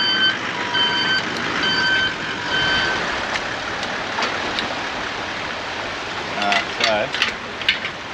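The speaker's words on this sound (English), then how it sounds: "So, I'm going to reverse back, Fran." A vehicle's reversing beeps sound in short repeated tones on a beach while launching a heavily loaded boat, over steady wind or surf noise, with a few sharper clanks near the end.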